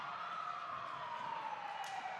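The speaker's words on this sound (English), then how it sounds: "I don't know what that siren is for." A siren wails through a badminton hall during an open and women's match at a university sports event, a steady tone slowly falling in pitch across the whole stretch over a busy room-noise background.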